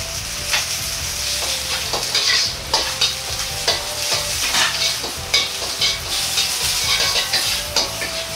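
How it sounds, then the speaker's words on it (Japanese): Green onion, ginger and Sichuan pepper stir-fried in a little oil in a wok, a loud continuous sizzle broken by repeated scraping strokes of the spatula in a steady rhythm. "鍋に少量の油と材料を全部入れ炒めます。"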